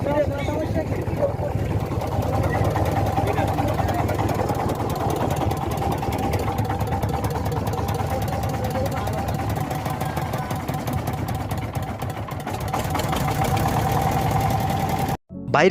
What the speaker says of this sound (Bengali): এই টলারের যে শব্দ